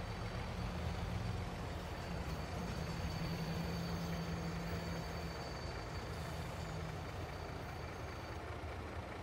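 In Farming Simulator 22, a train rolls along the track with a steady, low mechanical rumble and faint hiss that hold evenly throughout, with no one speaking.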